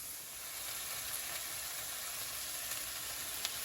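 Chicken in a lime marinade sizzling steadily in a hot pan, a close, even frying hiss that continues without a break and has a faint clink near the end.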